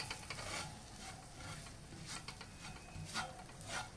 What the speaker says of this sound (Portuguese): Vamos colocando aos poucos e vamos mexendo.